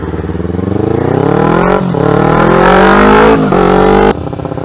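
A car engine revs hard and accelerates in a loud, close, sustained climb, rising in pitch, dipping briefly at a gear change, then climbing again before cutting off abruptly near the end.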